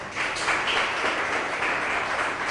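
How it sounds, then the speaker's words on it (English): Audience applause at a Savannah leaders' announcement of a racial equity and leadership taskforce, steady moderate clapping that fills the whole stretch without a break. "Let's give her a round of applause"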